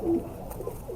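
A flying-breed pigeon gives a single short, soft coo, close by, in a quiet setting with no one speaking.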